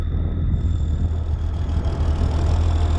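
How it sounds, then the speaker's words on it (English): White 2-135 tractor engine pulling silage wagons, a steady low rumbling drone at constant load, close and continuous throughout with no talk. "I've used an appropriately sized tractor for hauling wagons"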